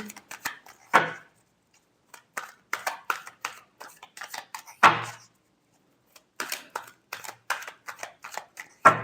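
Tarot cards being shuffled in a series of quick riffling and flicking bursts with short pauses between them, close and fairly quiet, with no talking over them.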